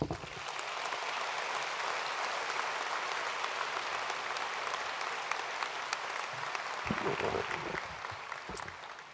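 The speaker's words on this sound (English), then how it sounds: "How about one more round of applause?" Sustained applause from an audience at a university commencement ceremony, dense and steady throughout and fading slightly near the end.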